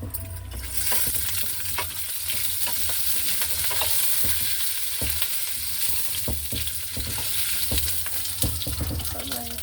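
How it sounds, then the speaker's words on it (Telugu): Mustard seeds crackle and pop sharply in hot oil, a dense steady sizzle broken by frequent close, irregular spluttering bursts that run on without pause and with no talking. "ఆవాలు కలర్ మారి చిట్టుపట్లు ఆడుతున్నాయి."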